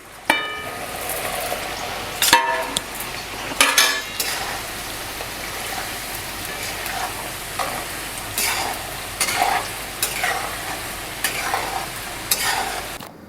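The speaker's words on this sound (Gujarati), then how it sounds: "આપણા જે શાકભાજી છે તળાઈ રહ્યા છે" Vegetables for Gujarati undhiyu fry in hot oil with a steady sizzle, while a utensil stirs and clatters against the pan in several sharp, close knocks.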